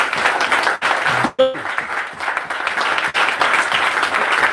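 A church congregation claps loudly during a sermon, steady applause broken by a couple of brief dips, with a short vocal sound partway through.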